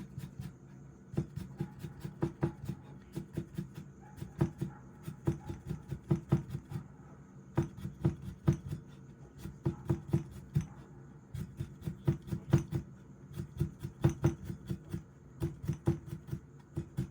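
A knife slices piled daikon radish very thinly on a cutting board, producing rapid, light, repeated chopping taps in uneven bursts, close and fairly quiet.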